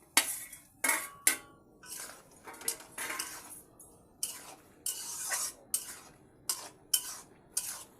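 Fried paneer pieces stirred into bubbling chilli sauce in a pan for chilli paneer, giving a series of sharp spoon-on-pan scrapes and clinks in an uneven rhythm, close and fairly quiet.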